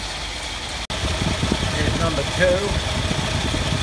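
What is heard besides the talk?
Toyota Land Cruiser 45 2F engine idling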